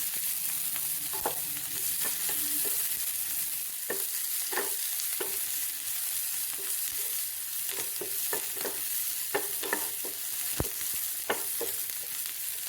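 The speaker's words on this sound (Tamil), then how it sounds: "வெங்காயம் போட்டு நல்லா வதங்கட்டும்." Onions sauté in a hot pan for an egg paneer roast, with a constant close sizzle broken by repeated clacks and scrapes of a spoon stirring them.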